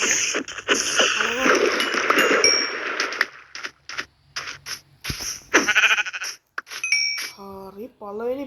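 Sheep bleating in the video game Minecraft, a few short wavering bleats near the end, following a stretch of people talking over clinking game sounds.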